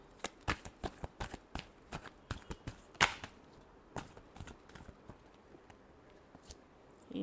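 A deck of tarot cards being shuffled close up, a rapid series of crisp, papery riffles and slaps in irregular bursts, with one sharper snap midway and quieter gaps between.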